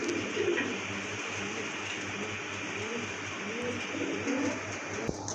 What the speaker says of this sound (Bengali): আর এখন কিন্তু আরেক জোড়া রেসার কবুতর দেখতে পাচ্ছেন